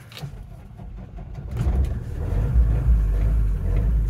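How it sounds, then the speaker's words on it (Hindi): A modern car engine starts up and revs, with a low rumble building after a quiet moment and holding loud and steady with rising surges. "जैसे ये उन्होंने कार किया स्टार्ट"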